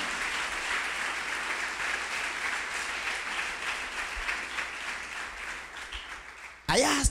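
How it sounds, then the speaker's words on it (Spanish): A church congregation applauds during a sermon, a broad steady roar of many hands clapping that continues for several seconds before cutting off abruptly, followed by a brief loud sound. "Dale fuerte el aplauso al Señor."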